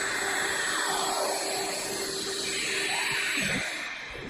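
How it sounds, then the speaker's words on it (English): Shop vacuum running after switching on automatically with a miter saw in a workshop, a loud steady whining roar with a constant tone that eases slightly near the end. "I just love this switch here that will turn on my shop vac automatically when I turn my miter saw on"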